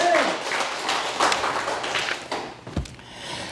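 Church congregation clapping together in a loose burst of claps that thins out, with voices mixed in underneath.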